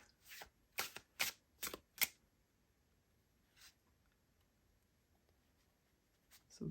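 Tarot cards drawn from a deck, five quick crisp slides and flicks in a row, then a lone faint rustle and two more soft card sounds at the end, close and quiet with no talking.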